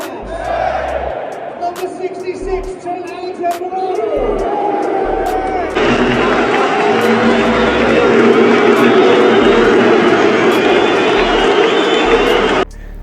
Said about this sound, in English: they was out there booing